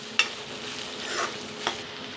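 Chopped onions sizzle gently in about two spoons of oil in a kadhai, with a sharp utensil tap at the start and a couple of quieter stirring scrapes, heard up close.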